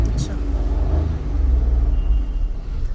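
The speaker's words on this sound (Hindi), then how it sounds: "ये गाड़ी निकल रही है ना जो आगे से, इनको भी देखना" A car passing on the road during a driving lesson, a low engine rumble and tyre roar swelling close by while people talk over it inside the learner's car.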